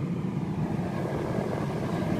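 A Tata Tiago's air-conditioning blower runs at fan speed 4 inside the car, giving a steady, broad rushing whoosh of air that stays even and continuous throughout.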